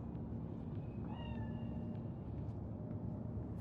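A single cat meow in Cyberpunk 2077, short and rising then falling, sitting faintly over a dense, constant rumbling game ambience.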